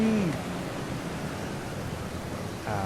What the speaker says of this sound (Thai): ฝนตกหนักจริง